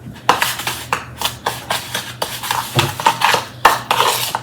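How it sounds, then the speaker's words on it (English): Meatloaf mixture being mixed by hand in a bowl, producing a steady run of close, wet squelching and scraping strokes with a loose, uneven rhythm and no talking. "And then here's the mixture, and you just want to mix it up."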